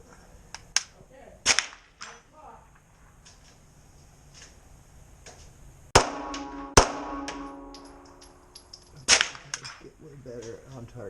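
Sharp pistol shots from a CZ 75 SP-01 Shadow at a shooting range, several loud cracks including quick double taps, each with a short ringing decay.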